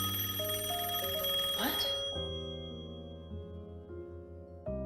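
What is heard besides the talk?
telephone ringing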